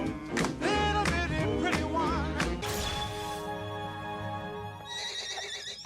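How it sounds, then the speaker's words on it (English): A loud horse whinny rings out, rising and trembling, followed by a sustained musical tone that fades. "Oh, we got a horse noise!"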